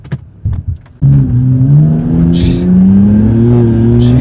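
After a few short knocks, a car with a Windbooster throttle controller accelerates hard from about one second on, its engine note climbing steadily and loud close up, with a faint voice early on.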